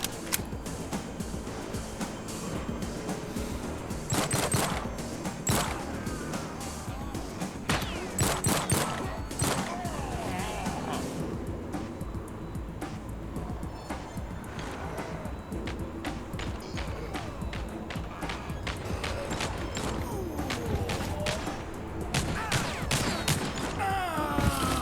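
Sustained gunfire fired through a wall in the shooter game TimeSplitters Rewind, a long run of repeated shots and clatter at steady loudness, with scattered footstep-like taps mixed in.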